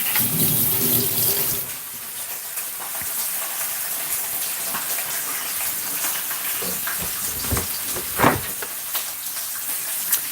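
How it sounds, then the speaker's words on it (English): Tap water runs steadily onto hands at a kitchen sink during bacon and breakfast cooking, a continuous close hiss and splash lasting the whole stretch, loudest at the start and with a few brief clunks near the end. "Just going to wash my hand off a bit."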